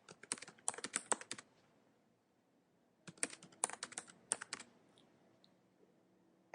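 Computer keyboard typing an email address and password: two bursts of rapid, close key clicks separated by a short pause, quiet and without talk.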